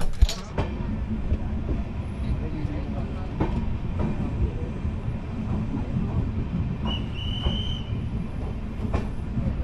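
Hemkund Express passenger train running through the night, with a steady low rumble and rattle of railcars throughout and faint wheel squeal near the end.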